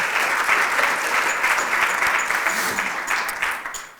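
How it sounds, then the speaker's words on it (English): An audience at an International Women's Day evening event gives a round of applause for supporters. The clapping is sustained and moderately loud, then fades slightly toward the end. "Can we please give our supporters a round of applause?"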